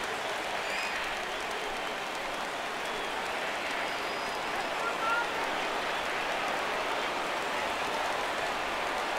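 Stadium crowd in the baseball video game MLB The Show 17 rises in a steady, dense roar of cheering and applause at a Phillies at Marlins game in Miami, loud and continuous throughout.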